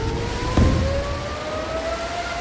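Air raid sirens wailing over an Israeli city during an Iranian ballistic missile attack, faint rising tones heard through heavy broadband rumble, with a brief thump early on.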